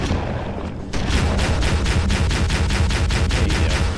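Sustained, rapid mounted-gun fire in the Halo video game on the Keyes level, with loud, evenly spaced bursts close up that begin after a brief lull and continue steadily.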